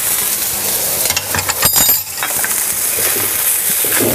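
Garlic and ginger sizzling in a hot pan with seared chicken for Mongolian chicken, a close, bright crackling hiss with a few clinks from stirring.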